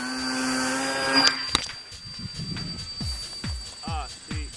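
An electric motor on an RC model airplane, the FT Bloody Baron, whines steadily at throttle for about a second, then cuts out, leaving faint wind noise and a few soft thumps.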